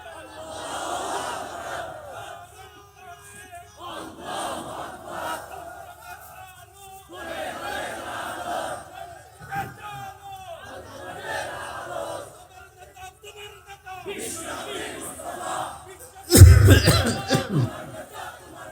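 A sermon crowd chants a takbir response in unison, several loud rhythmic group shouts in repeating waves separated by short pauses, ending in a sharp, louder burst near the close.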